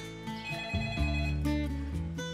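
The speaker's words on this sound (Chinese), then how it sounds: "我接你电话。" A telephone rings with a steady, melodic electronic ringtone pattern that repeats over a couple of seconds, clear and fairly close, and no voices are heard over it.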